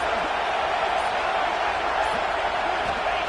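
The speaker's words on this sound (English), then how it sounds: "It's early, but this crowd is fired up. Listen to this noise here." A stadium crowd at a football game cheers in a continuous, loud, dense roar that holds steady throughout, with no distinct voices standing out.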